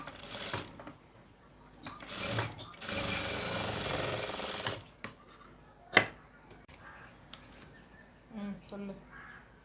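A sewing machine stitches a blouse at a tailoring table in bursts of whirring running, the longest lasting about two seconds, with a person talking in between.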